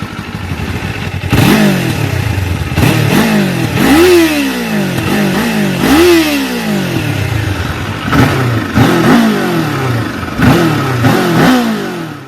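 A 2026 Kawasaki KLE500 adventure motorcycle engine is revved repeatedly while stationary, with loud close throttle blips rising and falling about eight times over a steady idle rumble.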